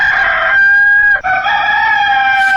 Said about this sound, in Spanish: Cantó el gallo, amigos.